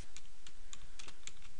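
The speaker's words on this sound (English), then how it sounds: "I'm just typing garbage here." Quick irregular keystrokes on a computer keyboard while filler text is entered for a website design in Photoshop, a handful of crisp close clicks over steady background hiss.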